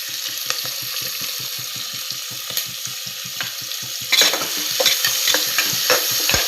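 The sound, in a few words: sautéing tomatoes for chutney in a pan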